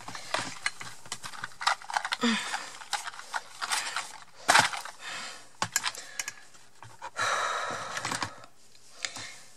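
A hand tool forcing holes through thick cardboard box material, producing a series of short, close crunching clicks and scraping bursts at an uneven rhythm, with a sharper snap near the middle and a brief sigh.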